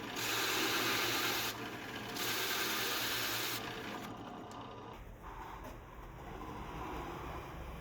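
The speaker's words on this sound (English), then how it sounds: "Then drill the hole without going all the way through." A drill bit boring a hole into wood for a record album shelf, stopping short of breaking through; a steady, close whirring grind that shifts pitch as the motor eases off partway, then continues more quietly.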